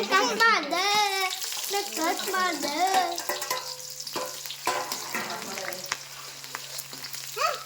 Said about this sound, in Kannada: ಇದು ಫ್ರೈ ಆಗತ್ರಿ.